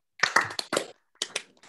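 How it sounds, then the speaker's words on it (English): Clapping from a small online audience with microphones switched on, thanking artist Aaron Coleman after his talk: a few scattered, uneven claps in short clusters with quiet gaps between them. "round of applause"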